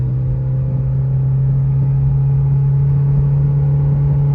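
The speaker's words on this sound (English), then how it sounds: "So as you see, RPM start to build up and you in 1st gear, you gotta go to 2nd" Mitsubishi Evo X with a failing SST transmission, its engine holding a steady, loud, low droning hum at constant revs with no clear gear change, heard from inside the car.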